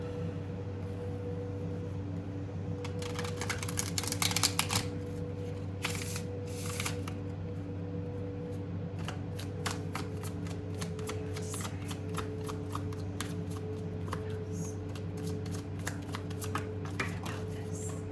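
A deck of tarot cards being shuffled at close range, with riffling bursts and rapid papery flicks over a steady low hum, no voices present.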